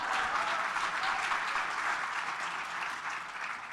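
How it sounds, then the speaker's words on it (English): Audience at a New York City civic talk giving a round of applause, a continuous even patter of many hands clapping at moderate level, with no voices over it. "Let's give our friends at OMB a round of applause."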